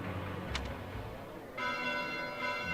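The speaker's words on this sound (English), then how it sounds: "Bells? This late at night?" Church bells ringing at night in Fire Emblem Three Houses: faint, sustained bell tones with a soft clang near the start, swelling after a brief pause and ringing on under a low ambient hum.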